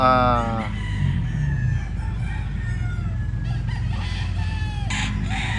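A brown F1 butcher rooster, a white pit with a street comb, crows loudly up close, then clucks and makes softer fowl calls while faint voices talk in the background.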